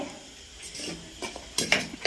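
River puthi fish frying in oil in a pan, a soft steady sizzle with scattered scraping and stirring clicks of a utensil, growing busier and louder toward the end.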